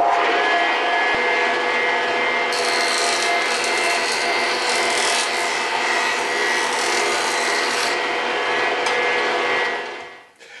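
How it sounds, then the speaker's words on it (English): A jointer squares glued-up wooden table leg blanks made from 3/4 inch stock, giving a steady, loud whirring cut that runs continuously with a brighter, rasping stretch midway before winding down at the end. "So we're ready to take these to the jointer."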